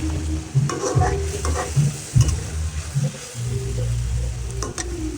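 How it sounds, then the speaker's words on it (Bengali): Big pieces of pangas fish are set frying in a pan on a lowered flame, with a steady sizzle and repeated scraping and stirring, loud and close, with no voices. "মাছটা দিয়ে আমি চুলাটা আস্তে দিয়ে মাছটাকে কষিয়ে দিব।"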